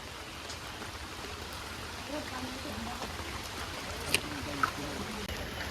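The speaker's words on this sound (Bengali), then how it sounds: "ওহ, ভালো বৃষ্টি হইতেছে, বৃষ্টি বাড়তেছে আস্তে আস্তে।" Rain falls on a village path on the way to Eid prayers, a soft, steady hiss with a few faint taps and drips near the end.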